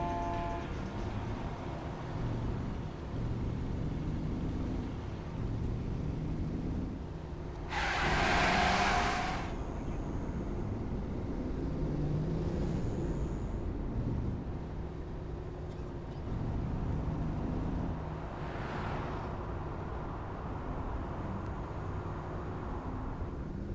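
A car moves through city traffic in Saints Row IV, its engine a continuous low drone with a loud horn-like blast partway through and a fainter one later.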